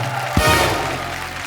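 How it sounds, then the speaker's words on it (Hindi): Studio audience on The Kapil Sharma Show, a TV comedy show, breaks into sudden, loud applause that swells and then holds steady, with music underneath. "जोरदार तालियां एक बार ऋषि सर के लिए"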